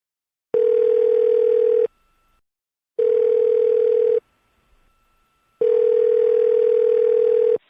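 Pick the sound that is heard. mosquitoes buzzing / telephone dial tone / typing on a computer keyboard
telephone dial tone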